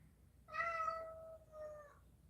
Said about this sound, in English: What are you meowing about this time?